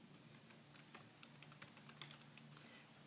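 Fingers tapping keys on a computer keyboard while entering a search into Google, a steady run of quiet, closely spaced clicks with a few sharper strokes, heard alone without talk.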